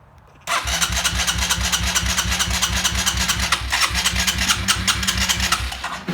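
A vehicle engine, shown as a new project, cranks in a steady, rapid rhythm under the starter while trying to fire on a cold start. The sound comes in abruptly and stays loud and close for about six seconds.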